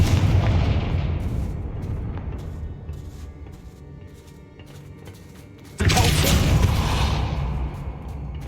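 Fire spell explosion in Hogwarts Legacy, a loud broadband blast with rumbling aftermath, followed by a second sharp burst near the end; no talk.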